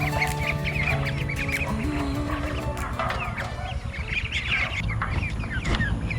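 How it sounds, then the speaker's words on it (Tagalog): Pet Pekin ducks quack and chatter in a group, overlapping calls close by against a busy farmyard background, with other fowl clucking among them. "para maipakita ko sa inyo itong ating mga alagang peking duck ngayong araw na ito"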